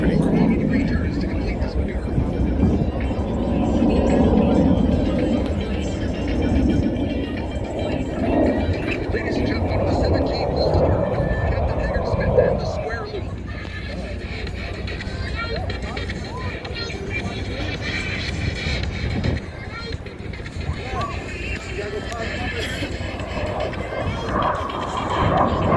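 A plane flying maneuvers at the Selfridge air show in 2022 drones steadily at a distance, its engine noise swelling and fading while people talk over much of it.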